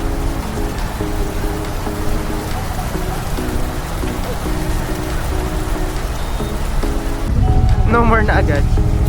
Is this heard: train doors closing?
no